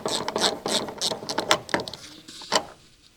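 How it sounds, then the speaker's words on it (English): A medium ratchet wrench fitted with a T50 socket bit loosens a car seatbelt mounting bolt, giving a close, rapid series of sharp clicking ratchet strokes with brief pauses between them. "Use a medium T50 socket bit paired with a medium ratchet wrench. Remove the seatbelt mounting bolt."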